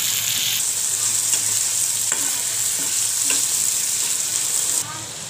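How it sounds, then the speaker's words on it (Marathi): Finely chopped onion sizzles in a hot pan and is stirred, with spatula scrapes breaking through a constant bright frying hiss. The sizzle drops away near the end, and no one speaks. "बारीक चिरलेला कांदा टाकून घ्यायचा आहे. कांद्याला चांगल्या प्रकारे आपण लालसर होऊ देऊयात"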